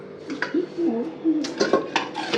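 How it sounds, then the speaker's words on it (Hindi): Dishes being washed at home, with pots and steel utensils clinking and clattering in a few short, close knocks. A voice murmurs underneath. "यहाँ पे मम्मा बर्तन साफ कर रही है"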